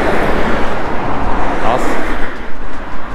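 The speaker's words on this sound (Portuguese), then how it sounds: "Vai dar um barulho porque aqui é 41. Passa muito carro aqui" Steady roadway roar from cars passing on highway 41, loud and close, with a continuous wash of tire and engine noise. There is no break in the traffic.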